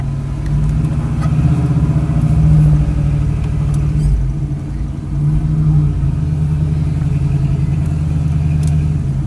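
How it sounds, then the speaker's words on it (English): A 1969 Chevrolet Camaro SS convertible with a 350 V8 idles steadily and loud nearby, a deep even rumble with a slight swell in revs early on and no talking. "Healthy motor."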